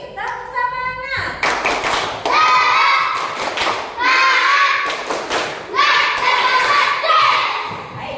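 Schoolchildren in a classroom chant together in a 'tepuk semangat' routine, punctuating it with loud, sharp bursts of group clapping, close and rhythmic, the voices rising between the claps.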